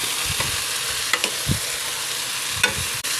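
Ladles stir and scrape through cabbage filling for lumpiang sariwa over a steady background sizzle, with a few sharp clinks of utensil on pan spread across the moment.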